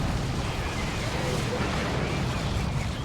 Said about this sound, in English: And there's Bio Meltdown, dealing damage to all nearby units.